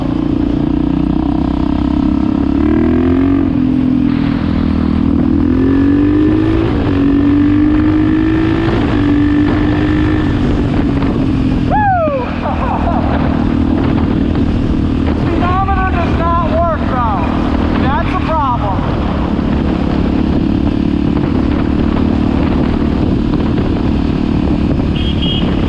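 A KTM supermoto motorcycle, a repaired budget bike, revs hard and loud through rising and falling sweeps, its engine note climbing and dropping repeatedly with a sustained rough drone and sharp throttle blips toward the end.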